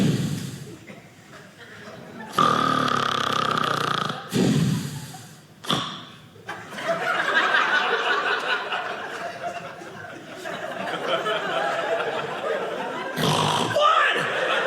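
A stand-up comedian vocally imitates a snore, with loud snorting and rasping bursts broken by pauses, delivered alone on stage without spoken words.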